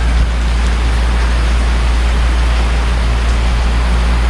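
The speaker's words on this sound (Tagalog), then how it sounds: "Lakas ng ulan." Heavy overnight rain in Bacolod pours down in a dense, constant hiss with a deep rumble of strong wind underneath, loud and unbroken throughout.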